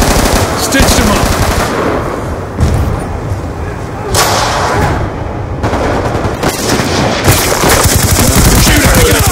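Rapid automatic gunfire and explosions from a Domination match in a military shooter video game, loud and dense throughout with bursts layered over continuous battle noise.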